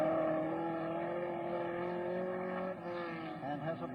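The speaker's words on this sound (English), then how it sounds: "There is John Surtees, round Polo, accelerating like a streak up to Ledger Corner." A 1963 racing car accelerates at the Australian Grand Prix, its engine note rising and whining at a distance in a thin, low-level recording, with a few rising pitch sweeps near the end.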